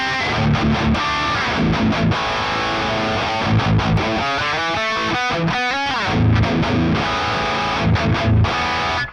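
Heavily distorted electric guitar playing chugging palm-muted riffs with stops and sustained chords, a thick high-gain Triple Rectifier amp emulation tone, loud and upfront.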